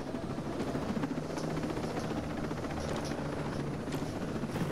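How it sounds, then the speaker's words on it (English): A helicopter in a video game, its rotor thumping and engine droning continuously, loud and close, steady throughout with no talking. "I'm going to shoot this helicopter."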